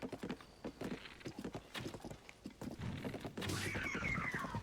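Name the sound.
horse galloping hooves in Zelda: Tears of the Kingdom video game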